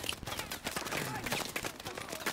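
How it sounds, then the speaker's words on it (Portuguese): Rapid gunfire in a video game, a dense burst of shots crackling in quick succession, fairly faint and continuous over a couple of seconds. "festival de tiro por trás"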